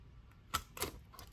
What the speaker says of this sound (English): just punch right through that fold